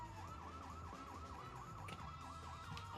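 Wailing truck sirens in a video game blare steadily and loudly in a repeating rising-and-falling pattern, alone with no talk.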